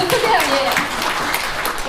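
At a social welfare talk concert marking an association's tenth anniversary, a crowd applauds with a broad, hissing wash of claps while a voice speaks over the start of it.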